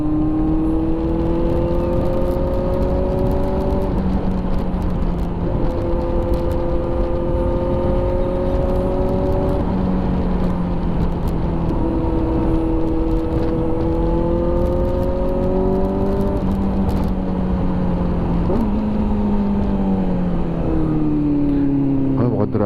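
A Kawasaki motorcycle fitted with an SC-Project exhaust, ridden through traffic toward a bridge in Valdefuente, drones loudly and continuously, its pitch rising and dropping with throttle changes and gear shifts for the whole stretch.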